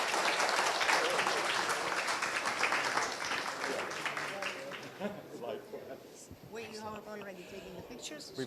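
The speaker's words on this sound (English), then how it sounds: "if I can invite for a big thank you and a warm round of applause for our fantastic" Warm audience applause for conference speakers at a COP28 climate summit event, loud and dense at first, then thinning and fading as a voice begins talking over it.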